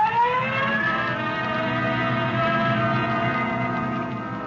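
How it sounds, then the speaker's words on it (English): A police siren wails with a rising, sweeping tone over a steady engine drone, fairly loud and continuous. "Code 3, red light and siren."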